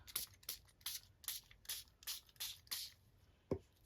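A spray bottle squirts repeatedly onto tatted roses, about eight quick, soft, evenly spaced hisses at close range with a faint tap near the end, no talking.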